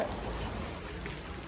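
Steady, soft rainfall patters continuously, an even wash of drops with no voices.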